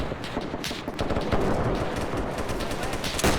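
Rapid machine-gun bursts crackle in a video-game firefight, dense overlapping shots rattling close and loud throughout with a few sharper cracks standing out.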